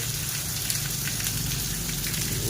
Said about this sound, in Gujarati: વરસાદ તો વધતો ગયો છે જો